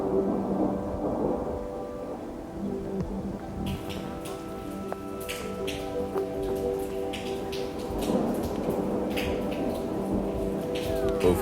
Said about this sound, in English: and then a storm cometh. A storm definitely cometh.